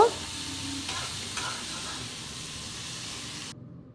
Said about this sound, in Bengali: তারপর সবগুলো জিনিস আমি ভালো করে তেলে নাড়বো, একটু নাড়াচাড়া করব, ভাজা ভাজা করে নেব